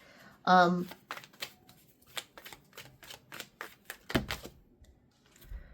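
Tarot cards are shuffled in a rapid run of crisp riffles and snaps, close and steady, with a short burst of speech at the start and a thud of handling near the end.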